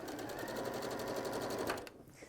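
A sewing machine stitching through built-up pleated cushion layers, a close, rapid, even whir of needle strokes that runs for about two seconds and then stops abruptly.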